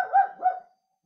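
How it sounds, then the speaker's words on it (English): A dog barks twice close by in quick succession, a pair of short mid-pitched woofs, then falls quiet. "Sorry about the dog."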